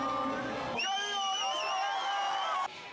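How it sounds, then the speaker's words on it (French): Outside a hotel in Oslo, a crowd sings the Venezuelan national anthem together, a sustained, melodic chorus of many voices that swells in the middle and then breaks off. "la foule chante l'hymne national"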